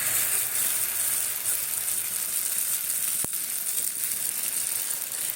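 Mustard seeds crackle and sizzle steadily in hot oil for tempering, a close, continuous frying hiss with one sharp click partway through.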